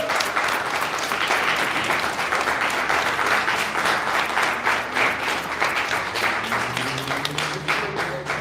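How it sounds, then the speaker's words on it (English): An audience at a poetry tribute breaks into sustained, dense applause, steady clapping from a room full of people. "Can we all give Kim a round of applause for doing this for us?"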